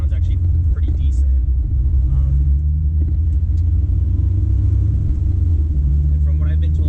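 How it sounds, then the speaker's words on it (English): A Honda S2000 fitted with a GReddy Supreme SP exhaust idles with a steady, tame low rumble that holds close and even throughout, while someone talks over it. "you can hear it idling. It's relatively tame. It has a nice little low rumble to it."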